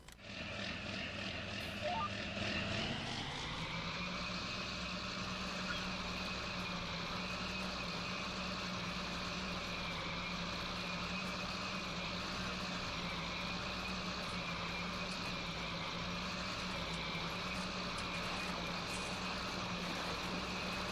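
A tractor engine drones steadily while seeding in Farming Simulator 19, a constant tonal hum that rises in pitch early on as it revs up, then holds evenly throughout with no speech.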